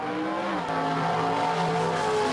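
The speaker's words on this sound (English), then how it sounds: "the smells, the sounds of these muscle cars" A muscle car's engine droning past with a steady, loud rumble whose pitch slides downward as it goes by, with no talk.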